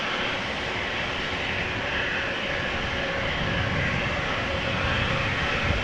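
An Austrian Airlines jet on departure to Vienna from Amsterdam Schiphol roars steadily at a distance, a broad continuous engine rumble that holds even throughout without speech.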